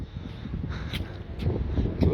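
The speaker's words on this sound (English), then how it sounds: "See if I can see any of those lovely birds that were hanging around." Several short bird calls, crow-like caws, ring out over a steady low rush of wind on a breezy beach at Corralejo, Fuerteventura.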